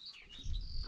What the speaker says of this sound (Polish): No skowronek się cieszy, że już posadzone.